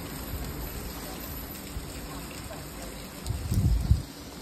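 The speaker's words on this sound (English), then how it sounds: "Even when it's raining," Rain falls steadily outdoors, a soft continuous patter under a faint background hiss, with a brief louder low thumping burst near the end.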